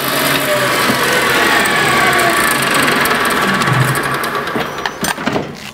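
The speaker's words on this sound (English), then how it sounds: "We'll fire this thing up and we'll roll the thread just like that." A thread rolling machine runs steadily, rolling an 8 millimeter thread with cooling applied, giving a continuous loud mechanical hum and whir that tapers off with a few clunks near the end.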